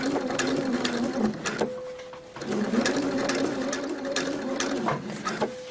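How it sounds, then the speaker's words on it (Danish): A sewing machine stitches a zipper fly, a steady whirring hum with a rapid mechanical rhythm, running in two long bursts separated by a short pause, close and clear. "Syr jeg hernede langs med kanten."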